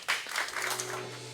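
A congregation at a church youth gathering gives a short burst of applause, a brief spread of clapping that fades within about a second, with a low hum beneath.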